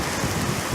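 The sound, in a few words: light rain falling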